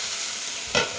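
Moorola fish frying in a pan over low heat, a soft continuous hiss of oil with one brief louder crackle near the end.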